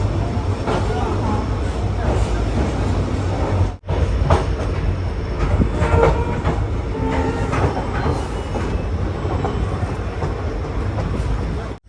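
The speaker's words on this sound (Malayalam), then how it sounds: "ട്രെയിൻ ഇപ്പോൾ സുറാവലി റെയിൽവേ സ്റ്റേഷനിലേക്ക് എത്തിയിരിക്കുകയാണ്" Train hauled by a WDG4 diesel locomotive rolling into Suravali station in Goa, a loud steady rumble of wheels and rattling carriages with rhythmic clatter, heard close from on board with a brief dropout midway.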